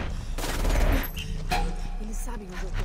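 Bursts of rapid gunfire crackle loudly in the video game Tom Clancy's Ghost Recon, mixed with a Portuguese-speaking voice over the chaotic shooting, then the fire thins into scattered shots.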